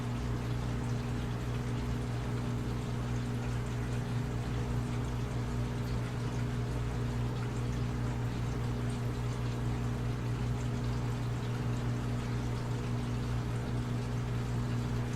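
Water from an aquarium overflow pours into a sump, a constant rushing wash layered over a steady low pump hum, unchanging throughout.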